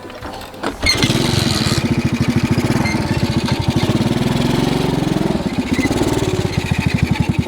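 A motorcycle engine starts abruptly after a short quiet moment, then settles into a steady, loud, near idle with a rapid even putter lasting several seconds.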